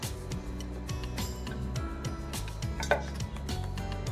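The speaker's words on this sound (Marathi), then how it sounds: "आता आपण लाटूया" A rolling pin working drumstick-leaf paratha dough on a board, making soft, regular wooden knocks and rolls in a steady back-and-forth rhythm, close and fairly quiet.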